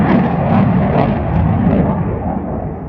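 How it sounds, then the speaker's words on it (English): A big jet aircraft at the Portrush airshow, a loud continuous roar rumbling steadily from a distance and slowly easing off. "one of them big jets is over there now"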